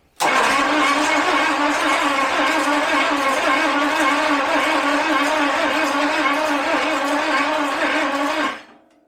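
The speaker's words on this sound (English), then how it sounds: "Here's the first crank with fuel in 42 years." The engine of a 1977 V12 coupe, unstarted for 42 years, cranks and catches with fuel in a garage, then runs as a loud, dense, steady roar for about eight seconds before cutting off abruptly.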